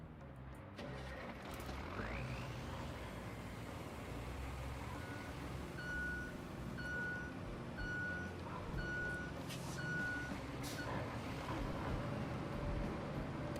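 Reversing beeps from a dump truck in the game Roadcraft, a steady series of about six evenly spaced high electronic pips over a constant engine rumble.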